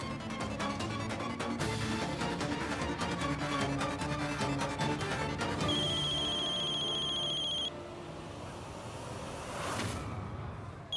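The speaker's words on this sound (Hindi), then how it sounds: "नताशा का फोन" A phone rings in a Hindi TV drama with a rapid electronic trill that repeats for several seconds over a dense musical background, then stops.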